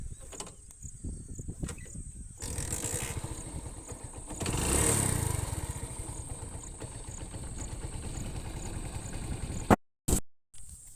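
A motorcycle engine starts on a rural village road, then runs in a steady idle close by. The engine swells partway through, and the sound cuts out abruptly near the end.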